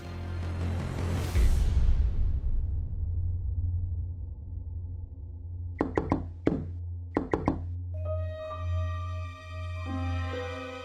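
Knocks sound on a door in a quiet room, two short groups of sharp raps, two and then three, heard over a low steady hum, with a whoosh before them and a sustained tone after.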